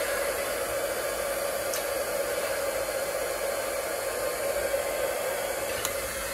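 Steady broadband whoosh of a heat tool warming up for heat embossing at a paper-crafting table, running evenly and fairly close throughout with no talk.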